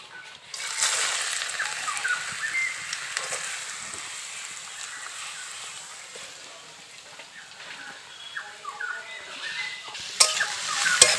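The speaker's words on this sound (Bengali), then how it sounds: "এখন এর মধ্যে কেটে রাখা আলুগুলোকে দিয়ে দেবো" Cut potatoes and split dried chillies frying in hot oil, a dense steady hiss and crackle that stays close and fairly loud throughout, easing off midway, with a few sharp clatters near the end and no voices.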